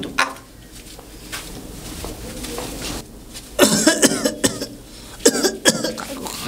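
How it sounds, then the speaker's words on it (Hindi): Coughing in a comedic Hindi village sketch, with a few hard bursts after a quieter stretch of room noise; the coughs come in clusters, close and fairly loud. "नहीं, खांसी आ रही है मुझे, हो जाती है खांसी।"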